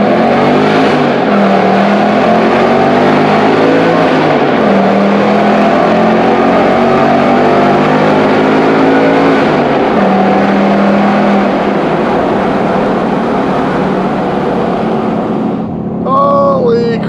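A car accelerates hard through Pittsburgh's Liberty Tunnels, its loud, close engine roar rising and shifting through the gears while the tunnel walls echo it back. A voice is heard faintly under the engine.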